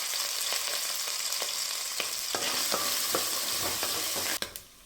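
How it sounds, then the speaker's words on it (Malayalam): Coconut pieces fry in hot coconut oil with a steady, close sizzle, punctuated by light scraping taps of a spoon stirring the pan before the sound drops away near the end. "എണ്ണ ചൂടായിട്ടുണ്ട്. ഇതിലേക്ക് 2 സ്പൂൺ തേങ്ങാക്കൊത്തി ഞാൻ ചേർത്ത് കൊടുക്കാം."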